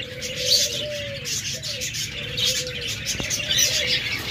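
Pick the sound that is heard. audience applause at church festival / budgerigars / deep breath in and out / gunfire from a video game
budgerigars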